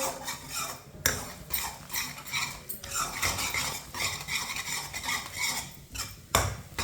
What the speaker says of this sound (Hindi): इसी तरह चम्मच चलाते हुए मीडियम आंच पर पका लें अंडों को